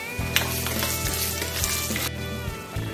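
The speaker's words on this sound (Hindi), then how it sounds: "अब मैं इसमें ऐड करूंगी कड़ी पत्ता, सफेद तिल, इसको भी हम हल्का ब्राउन कर लेंगे" Curry leaves and white sesame seeds frying in hot oil for green tomato chutney, a loud, close, crackling sizzle with sharp spattering bursts, continuous and without talk.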